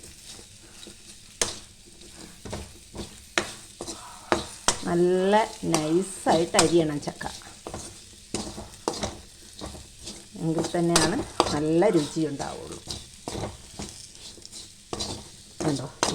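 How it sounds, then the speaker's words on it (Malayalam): Jackfruit samosa filling is stirred and scraped in a pan over low flame, with intermittent sharp scrapes and a light sizzle, while someone talks over it in bursts. "ചക്ക അതിലേക്ക് തട്ടിക്കൊടുക്കാം. ഒന്ന് നന്നായി ഇളക്കിയെടുക്കുക."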